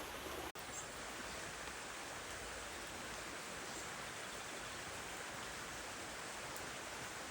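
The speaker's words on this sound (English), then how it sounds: "It's chucking it down with rain, so just sheltering under a tree for a minute" Heavy rain pours down steadily on a walker sheltering under a tree beside a river in the Yorkshire Dales, a dense, unbroken hiss filling the air from start to finish, with a single brief dropout near the beginning.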